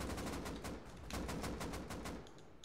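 Gunfire in the video game Rust, a fairly faint, distant-sounding run of rapid shots in quick succession, holding steady with a slight dip near the end.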